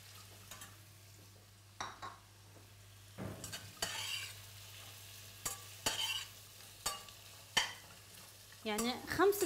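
Carrots dropped onto softened onion and garlic in a frying pan give a quiet, steady sizzle, broken by several sharp scrapes and stirs of a utensil and a brief clatter near the end.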